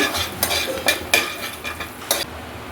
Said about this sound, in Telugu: ఇవి వేగినంత వరకు కొంచెం ఫ్రై చేసుకొని